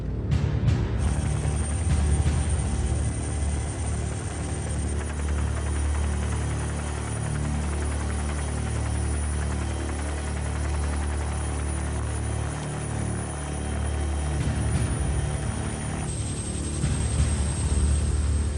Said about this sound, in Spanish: Los helicópteros nos posan en lo alto de una colina